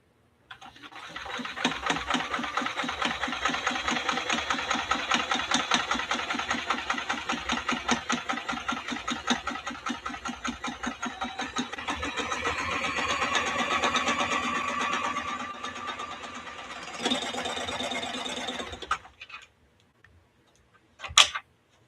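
A vintage Kenmore sewing machine runs steadily through folded, thickened fabric, a loud rapid rhythmic whir with ticking stitches for about eighteen seconds, then slowing and stopping, followed by a few faint clicks.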